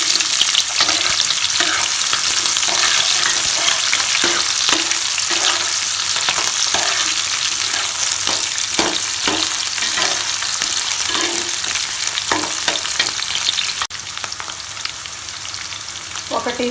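Fish sizzles and spits in a hot pan while being cooked for Andhra-style fish curry (chepala pulusu), a loud, continuous frying hiss with occasional stirring clicks and pops, easing slightly toward the end.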